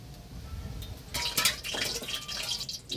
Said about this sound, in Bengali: কড়াইয়ে তেল দিয়ে নিচ্ছি